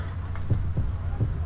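Heartbeat in the survival video game 7 Days: three soft, low thumps spaced unevenly over a steady hum, with no talking.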